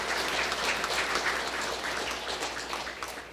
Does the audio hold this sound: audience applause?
yes